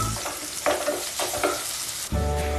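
Onions sauté with ginger and garlic in a pan for Indian-style masala pasta, producing a near, steady sizzle punctuated by several spatula scrapes, then a fresh burst of frying near the end, and no speech.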